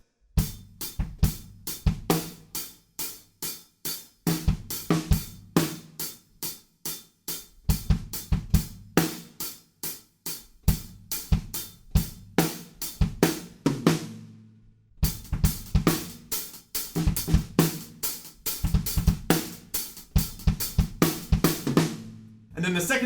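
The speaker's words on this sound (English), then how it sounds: "play 8th notes on the hi-hats, and try and get these tricky kicks in" Drum kit playing a metal verse groove with steady eighth-note hi-hats over syncopated, tricky kick-drum patterns and snare backbeats, loud and continuous with a brief break midway, no talking.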